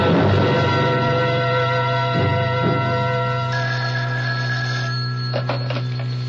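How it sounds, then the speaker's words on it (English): A telephone rings with a steady electronic trill in a CBS Radio Mystery Theater drama, ringing loud and continuous for about six seconds with no talk over it. "First of all, I've got to make a phone call."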